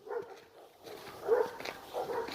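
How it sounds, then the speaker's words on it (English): A wolf-dog on a snowy forest road near Leningrad, Russia, lets out a few rough, mid-distance barks and whimpering yips over muffled outdoor ambience, with no one speaking. "Don't bark at him, you're just as bad."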